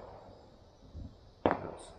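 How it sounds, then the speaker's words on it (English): Fireworks going off around a residential neighborhood, heard as one sharp distant bang followed by a crackling tail over quiet background hiss, with a softer thump just before it. "All the fireworks going on."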